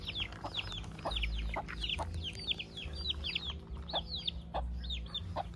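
Chickens cluck repeatedly on a farm in the countryside, with sharp, frequent calls overlapping near and far over a steady low rumble, and no talking.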